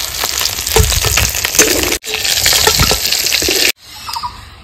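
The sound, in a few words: bay leaves, dried chillies and cumin sizzling in hot oil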